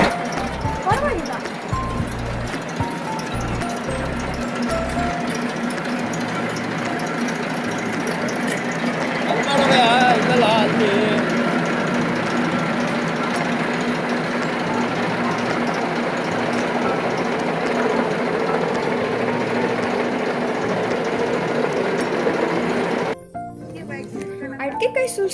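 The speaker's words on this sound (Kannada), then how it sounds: "ಈ ಮಿಷಿನು ಕಾಯಿ ಒಳಗಡೆ ತಗೊಂಡು ಸಿಪ್ಪೆ ಒಂದು ಕಡೆ ಕಳಿಸುತ್ತೆ" An areca nut dehusking machine runs steadily with a continuous mechanical whir and faint clinking, while people talk over it, until the noise drops off near the end.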